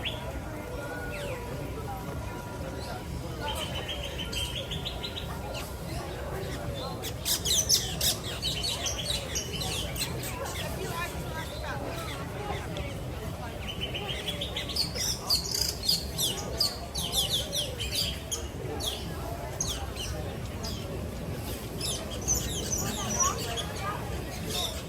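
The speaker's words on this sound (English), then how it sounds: "These are starlings, and we saw them when they were first starting to build these nests." Starlings chirp and call near their nests at Disney's Animal Kingdom, a busy, steady chatter of squawks and high tweets over low crowd murmur and faint voices throughout.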